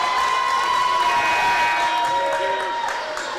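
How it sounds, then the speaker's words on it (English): Lion fans give a mock cheer at a girls' high school basketball game, a sustained loud crowd roar with shouting and whistling that fills the gym, with voices mixed in. "I think that was a mock cheer from some Lion fans."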